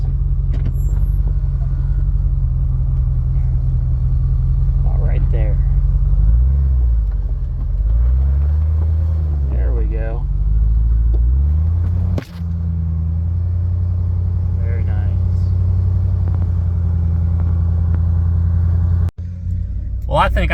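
Jeep WJ with long-arm lift, new axle shafts and a locker crawls off-road in four-wheel drive, its engine a steady low rumble throughout, rising and falling with throttle, with a couple of sharp knocks as the suspension binds up.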